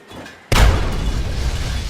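A sudden loud blast bursts out in the Fallout 3 video game, a sharp boom followed by a long, rumbling decay that fills the rest of the moment.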